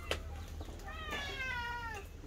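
A hungry cat meows in a home kitchen, one drawn-out, wavering meow that sounds close and clear over a low background hum.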